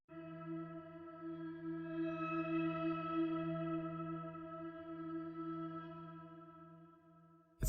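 A soft, sustained guitar sample is layered with a dark, reverberant texture from a Cycles Aurus preset, one steady droning chord that swells gently and fades.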